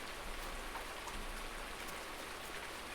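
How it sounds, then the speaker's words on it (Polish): Steady rain falls in a rural farm setting in Pomerania, a quiet, even hiss of drops hitting surfaces with scattered faint taps, continuous and without voices. "Nie, nie śnieg, u mnie deszcz normalnie."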